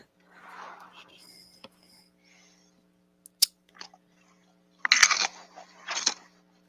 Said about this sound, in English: I am eating my doggy treats.